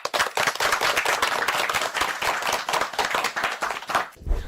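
Children clap for a young performer during a live radio children's programme, a dense burst of many hands lasting about four seconds, fairly loud and close, then stopping abruptly.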